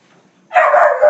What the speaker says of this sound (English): my dog just wanted to talk to you there